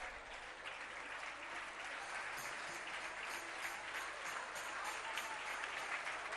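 An audience at a Jain religious gathering claps together in sustained applause for a monk, a dense, even patter of many hands continuing throughout without pause.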